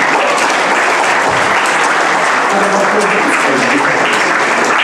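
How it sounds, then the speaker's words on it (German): An audience at an evening show in the PZ-Forum in Pforzheim claps loudly and steadily, a dense continuous applause that fills the hall without letting up. "Ja, klatschen, wenn es euch gefällt."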